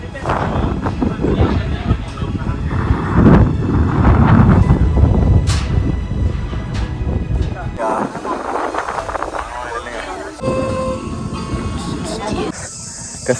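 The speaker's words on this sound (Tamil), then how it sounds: "காற்றும் நல்லா அடிச்சிட்டு இருக்கீங்க" Strong wind gusting across a bridge on the way to a rock mountain, loud rumbling buffeting on the microphone that drops away partway through, with faint background tones afterward.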